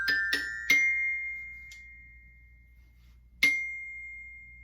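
Orchestra bells are struck a few times in quick succession and left to ring, bright metallic tones sustaining and decaying, then one more clear strike rings out alone.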